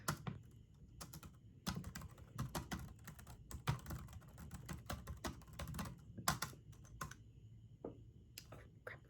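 Soft, close typing on a computer keyboard at a bookshop till in a role-play, with bursts of quick key clicks and taps broken by short pauses, quiet and intimate with no voices.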